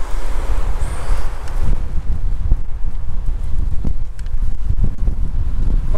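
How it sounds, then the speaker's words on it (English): Strong gusty wind on a blustery day outdoors at a castle, buffeting the microphone with loud low rumbling and rustling throughout. "What a windy day today."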